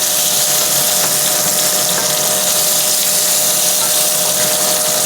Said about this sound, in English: So you're frying your rice, grains of rice, you're frying them.